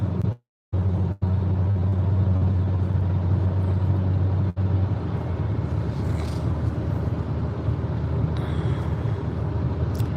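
Interior rumble of a car driving on the road at sunrise, a steady low engine and road hum with a brief dropout near the start and faint higher noises later.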